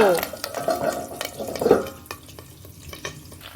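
Fish roe frying in a pan for roe pakoras alongside a rohu curry, with a soft sizzle and stirring scrapes in the first two seconds that fade into quieter crackle and a few light clicks.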